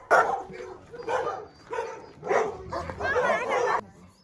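Several dogs bark in short bursts, one after another, with yips mixed in, fairly close, at an animal shelter, alongside a busy background that suggests people talking nearby.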